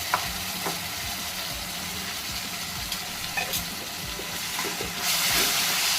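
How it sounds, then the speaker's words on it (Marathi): Garlic, coconut and ginger paste fries with onions in a pan for a village-style chicken masala, a steady close sizzle with occasional stirring scrapes and a brief louder hiss near the end. "आणि तेही छान कांद्याबरोबर भाजून घ्यायची"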